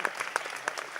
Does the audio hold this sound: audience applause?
yes